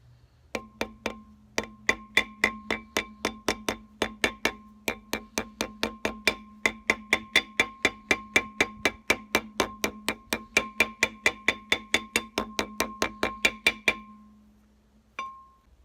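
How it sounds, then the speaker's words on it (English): A hammer taps a new rear bearing seal into a front hub during a six-lug disc brake conversion on a 1947-59 Chevrolet or GMC truck. Roughly forty sharp, ringing metallic taps come at a steady, fairly quick rhythm, close and loud, with no talking. "We'll just tap that around the perimeter to make sure it's seated"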